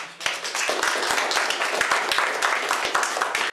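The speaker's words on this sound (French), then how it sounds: "on va les quitter sous les applaudissements" Audience applause at a lip dub event, dense rapid clapping from many hands throughout, loud and close, with some voices mixed in under the claps.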